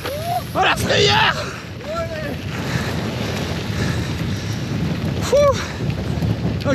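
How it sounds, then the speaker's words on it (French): Strong headwind roars and buffets the microphone throughout a fast mountain bike ride, a steady broadband rush with riders shouting briefly over it near the start and again toward the end. "Ok, vent de face, c'est terrible."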